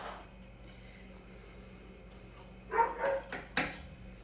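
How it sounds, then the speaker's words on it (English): A dog barks at a door in a few short bursts near the end, after a stretch of quiet room noise; the barks are moderately loud and close. "Lola's trying to bark her way in the door."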